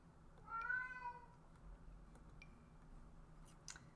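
A cat named Mowgli gives one drawn-out, wavering meow, loud and close at first and fading over about a second, after startling himself by knocking something over. Soft scattered ticks and faint rustles follow.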